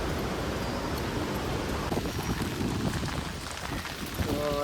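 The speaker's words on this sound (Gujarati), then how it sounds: "તો વરસાદ બહુ વધારે સ્ટાર્ટ થઈ ગયો છે" Heavy rain falls outdoors in a steady, dense broadband wash. It stays loud and even throughout with no clear voices.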